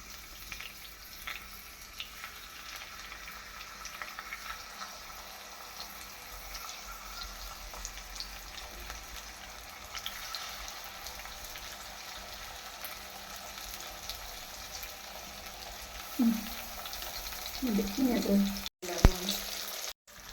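River fish frying in coconut oil, Kerala style, gives a steady, close hiss of sizzling that holds throughout, with a few brief clatters and a short voice burst near the end.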